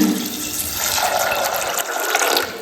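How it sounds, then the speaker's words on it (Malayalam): Water runs steadily into a pressure cooker holding chickpeas, a continuous broad splashing rush that holds for a few seconds with no talking. "ഇത്ര വെള്ളം ഒഴിക്കുന്നുണ്ട്"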